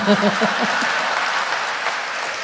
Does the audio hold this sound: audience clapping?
yes